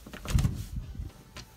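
Apartment interior door swinging open, a low thud and rattle followed by a softer creak, close and moderately loud with no talking.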